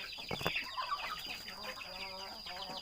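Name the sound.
fighting cocks clucking after Newcastle vaccine injection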